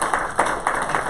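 Audience at a criminal justice summit in Oregon applauding, a modest patter of claps with soft repeated bursts, somewhat distant and thin.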